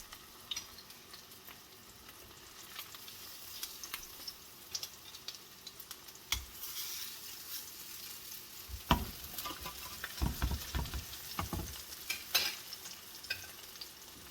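Bean burger patties frying in a pan of heated shallow oil, a steady close sizzle with crackles that grow denser and louder in the second half as the patties settle and cook, with no talking.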